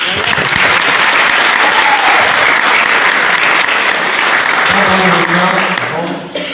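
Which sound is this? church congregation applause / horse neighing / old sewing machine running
church congregation applause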